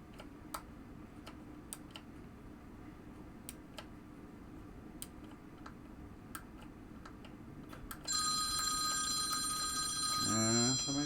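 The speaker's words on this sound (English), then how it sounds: "Somebody's calling me. I forgot to mute my phone." A mobile phone rings with an incoming call in a workshop where a 1974 Williams Starpool pinball machine is being restored. Faint ticks and a voice come first, then the bright repeating ringtone starts and carries loudly to the end.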